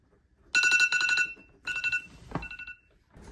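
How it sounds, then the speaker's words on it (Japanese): A timer alarm rings in loud bursts of bright, rapid electronic beeping, with short pauses between the bursts and no talking. "今回はタイマーを使ってます"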